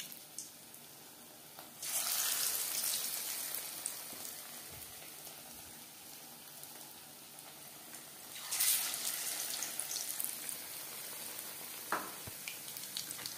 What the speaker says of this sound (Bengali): পকোড়া ভাজবো মিডিয়াম ফ্লেমে